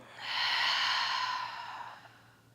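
A single deep, breathy exhale during a calming yoga session, close and clear, swelling quickly and fading slowly over about two seconds against a faint background hum.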